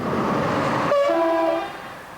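A train passing on a railway line in central France: loud, close rumbling roar, then a sharp multi-tone horn blast that holds for about a second and fades as the noise recedes.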